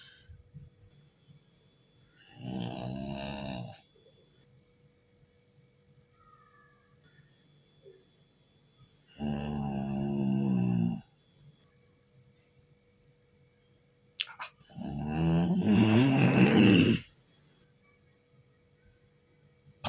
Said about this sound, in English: Why the snore now?